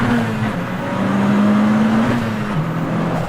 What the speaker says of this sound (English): it's certainly loud in here, with the engine just there.